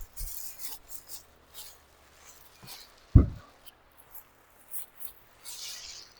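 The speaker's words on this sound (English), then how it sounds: "So let's go ahead and get plastic out of here." Plastic protective covering is peeled off a WEN JT630H jointer, heard as quiet intermittent crinkling and rubbing with one sharper thump midway, close and alone.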